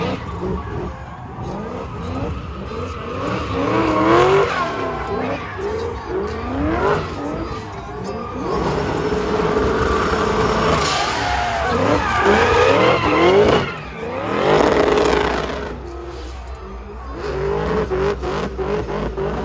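An 800-horsepower supercharged Pontiac GTO drifting with its engine bouncing off the rev limiter, loud and close: a harsh sustained roar mixed with screeching tires, with brief dips where the throttle lifts before it rises again.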